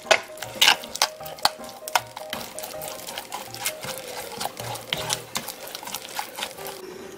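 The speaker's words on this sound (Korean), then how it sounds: "양념을 버무리시고 간을 한번 보세요." Young radish kimchi is tossed by hand with a seasoning paste of anchovy fish sauce and ginger syrup, giving close, wet squelching and rustling in an uneven, repeated rhythm at moderate volume.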